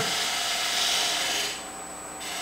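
A wood lathe turns in a woodturning shop, a steady broadband rasping, grinding noise that stays loud and shifts slightly partway through.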